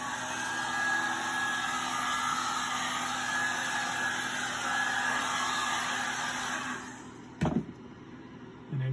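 A hair dryer blows a steady, close whooshing roar while drying paint on a kite, running for several seconds before switching off with a brief clunk.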